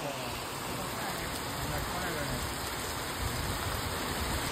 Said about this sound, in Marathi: खूपच जोरात पाऊस आहे